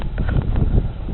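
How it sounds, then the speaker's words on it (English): Wind blows outdoors at night ahead of expected storms, a steady low rumbling gust noise buffeting the microphone throughout the short stretch, with no speech. "it's getting pretty windy out here"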